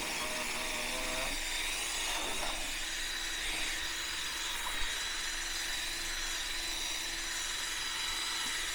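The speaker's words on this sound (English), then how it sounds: "So it's real important to scuff up the floor so that rubber will stick." A concrete garage floor is scuffed up with an abrasive power tool, giving a steady, loud grinding rasp that runs unbroken from start to finish with no talking.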